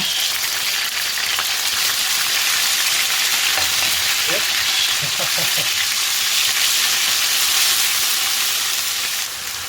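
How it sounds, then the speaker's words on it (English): Ginger and garlic fry in hot oil for an aubergine and lentil dal, giving a loud, dense, continuous sizzle like heavy rain that holds steady throughout, with a few faint clinks and no voices. "So always cook your ginger and garlic until you can't smell it anymore."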